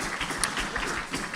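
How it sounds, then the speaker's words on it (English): An audience at a Rotary Club of Tucson meeting applauds, a brief dense patter of clapping heard alone. "Give them a round of applause for in the middle of their day"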